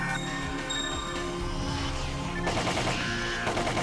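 Rapid gunfire from a weapon in the video game Phantasy Star Online Episode II, a dense stream of synthetic shots over steady game music, with a harsher burst in the final second.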